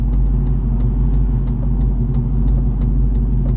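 An idling car with a manual clutch and a suspected failing throwout or input shaft bearing produces a loud, steady low rumble, with a regular light ticking repeating about three times a second.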